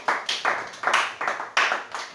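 Church congregation clapping in a steady rhythmic beat, about eight or nine even claps in quick succession, fairly close and loud, with no talk over it.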